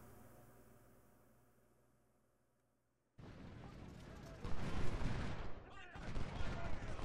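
Musket volleys from a Civil War battle in Ultimate General: Civil War, a loud dense crackle of massed gunfire bursting in after near-silence and rolling on continuously, with a voice speaking over it.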